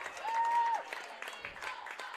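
A crowd at a Boone varsity high school wrestling meet gives brief, faint, scattered applause, with a short whistle near the start.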